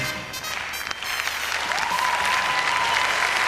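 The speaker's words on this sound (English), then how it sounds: "And the crowd really appreciating that pair." Audience applause fills a dance hall at a 2002 European Standard ballroom championship in Denmark after a quickstep, steady dense clapping throughout with a sustained tone and faint crowd noise beneath.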